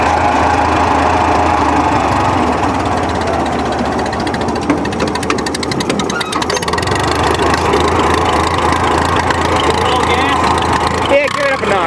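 A 1932 Caterpillar Model Ten dozer engine runs steadily up close, a loud continuous mechanical chug with rattling and clanking, filling the whole stretch without letup.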